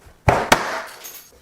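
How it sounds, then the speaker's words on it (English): A glass LED light bulb smashed with a battery, two sharp loud cracking impacts in quick succession followed by a brief tinkle of scattered glass fragments. "Glass everywhere. Should have put it in a plastic bag."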